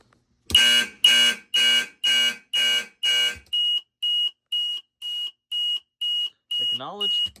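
A fire alarm system sets off its smoke alarm in a drill demo: six loud horn blasts in steady rhythm give way to a run of thinner high beeps, with a brief voice speaking over the final tone.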